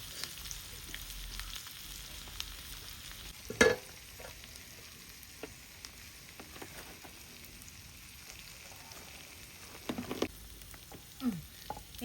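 Shallots and mustard seeds fry in oil with a faint, steady sizzle, broken by a few sharper clinks and pops from stirring.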